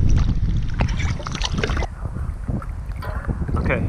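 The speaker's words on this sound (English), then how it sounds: "it's windy, it's cold, and it started raining" Strong wind buffets the microphone during cold, rainy weather outdoors, with a loud, continuous low rumble and gusty roar that persists throughout. The blustery noise varies slightly and dips briefly near the middle.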